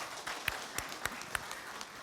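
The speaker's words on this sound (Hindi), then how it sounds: "इस शुरुआत के लिए भी जोरदार तालियां।" Scattered claps from an audience at an award ceremony, a few sharp hand-claps standing out over a faint, thin background rather than a full ovation.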